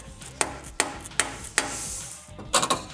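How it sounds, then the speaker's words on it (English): Hammer blows on the water pump pulley flange of a 1996-2004 Mustang 4.6L V8: about eight sharp, close metallic strikes in an uneven rhythm, with a quick double knock at the end. "We did have to hit on the snout or the flange for the pulley"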